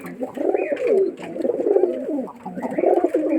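Giribaz pigeons from Rajshahi coo in soft, throaty bursts, several overlapping rolling calls close by, repeating with brief pauses and no talk.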